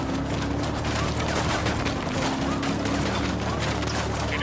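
Dense gunfire from a Ghost Recon open beta firefight against cartel soldiers, a continuous loud barrage of rapid shots filling the whole stretch with a steady hum beneath.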